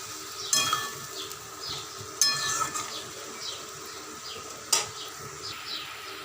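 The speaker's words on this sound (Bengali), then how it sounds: "এতে সামান্য পরিমাণ আমি একটু জল দিয়েছি, দিয়ে ভালো করে কষাবো।" Potatoes and fish with a little added water being stirred in a pan for a home-style eggplant and potato curry, with a few sharp metal clinks of a spatula against the pan over a faint, low sizzle.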